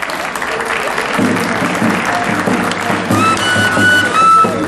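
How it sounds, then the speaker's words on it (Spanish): An audience gives strong, sustained applause after a performance of the Los Chunchos de Cajamarca dance, loud and dense throughout, with crowd voices and some tonal sounds mixed in toward the end. "Muchas gracias también por los aplausos"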